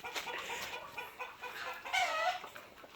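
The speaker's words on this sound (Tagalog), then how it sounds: "ating mga pangtalpakan na manok" Fighting roosters kept on a provincial Filipino farm cluck and chatter in short, fairly quiet bursts, with one louder, drawn-out call toward the end.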